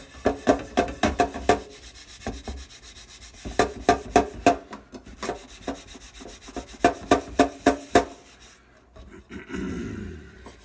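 Repeated hand scrubbing of a non-stick pan at a kitchen sink, heard as bursts of quick, rhythmic scratchy rubbing strokes close up, with short pauses between runs and running water near the end.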